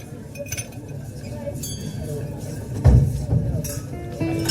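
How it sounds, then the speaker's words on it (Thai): A bottle is set down on a table with a solid thunk amid glassy clinks as champagne is opened, over a soft background of voices and music, heard through upgraded speakers in a Mercedes-Benz C43. "ได้ยินเสียงที่เขาวางขวดลงบนโต๊ะไหมฮะ เสียงเปิดแชมเปญนะครับ"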